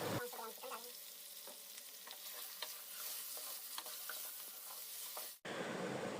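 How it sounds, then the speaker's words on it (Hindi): Chicken pieces fry in hot oil with chopped onion for a restaurant-style jalfrezi, giving a steady close sizzle with occasional stirring clinks. The sound cuts off abruptly near the end and gives way to a different, rougher hiss. "प्याज को अच्छी तरह भुनने के बाद आपने इसमें गोश्त डालना है और गोश्त को अच्छे से फ्राई करना है।"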